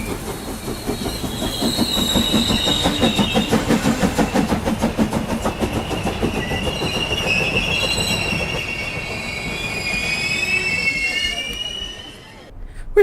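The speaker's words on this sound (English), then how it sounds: "We gotta get off this train." Animated train rolling steadily on rails with dense rhythmic wheel clatter and squealing wheels, loud and close throughout, then easing off near the end.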